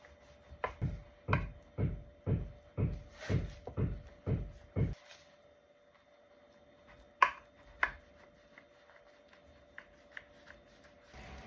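A knife chops firmly on a board in a steady run of about nine even strokes, then a pause and a couple of scattered lighter cuts, preparing food for a crispy minced meat flash dish.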